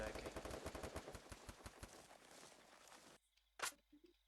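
Rapid gunfire in a multiplayer shooter video game, a dense loud burst of repeated shots for about three seconds, then quiet with one short sharp noise afterward.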